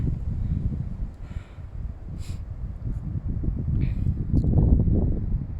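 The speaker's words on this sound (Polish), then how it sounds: "To jest nieziemski wiatr" Steady low rumble of wind buffeting the microphone, gusting stronger near the end, with faint rustling on top.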